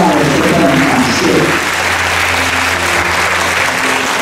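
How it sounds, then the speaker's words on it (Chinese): Loud, sustained clapping from a large audience fills the hall at a kindergarten graduation ceremony, a dense steady wash that eases slightly partway through and carries on to the end. "给我们热情掌声，"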